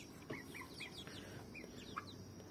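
Chickens cluck softly at a farm, several short rising chirps and clucks scattered in quick succession over a low steady background hum, faint and distant with no voices.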